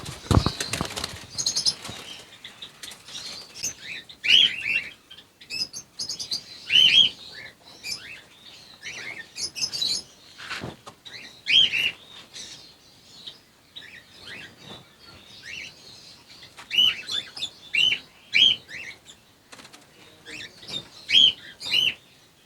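Doves, cockatiels and Java sparrows in an aviary colony setup give repeated sharp chirps and tweets over a steady patter of fluttering wings, close and lively throughout.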